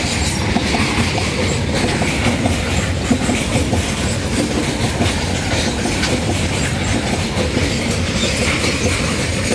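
A freight train rumbles steadily across a railway bridge at Madhupur, its wagons clattering in a loud, unbroken roar with rhythmic wheel clicks and faint squeals, close and constant throughout.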